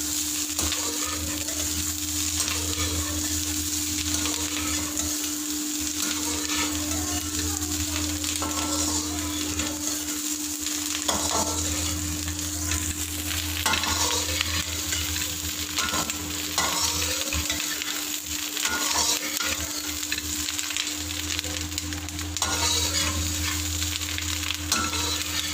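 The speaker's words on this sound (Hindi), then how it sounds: "इनको मैं हल्की आंच पे थोड़ा सा तड़क लूँगी। सिर्फ 2 मिनट हम इसको तड़केंगे" Lasoda seeds and spices tempering in an open pan over a low flame for lasode pickle, a steady soft sizzle and crackle with occasional stirring scrapes, continuous and close, no voices.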